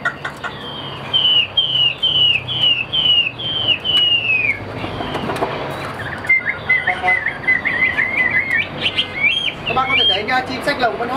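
Caged songbird chirping and trilling in a series of bright repeated notes, loud and close, with someone talking intermittently over it and some background noise.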